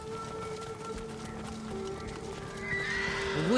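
Horses in the video game Ghost of Tsushima whinny and clop their hooves near a lakeside fishing camp by temple grounds, a clear neigh rising at the end over soft hoofbeats and a low ambient backdrop.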